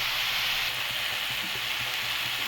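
Tomatoes and green chillies softening in a hot pan for a green chilli tomato chutney, giving a steady, close hiss of sizzling that runs unbroken throughout.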